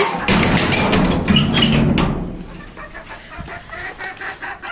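Chickens clucking repeatedly at close range, a busy run of short calls that grows a little quieter toward the end.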